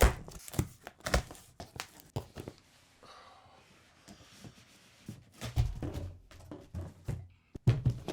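A knife slices and tears through the packaging of a Ghost Golf AWOL travel bag, heard as close, irregular thuds, rips and crinkles with quieter pauses between bursts.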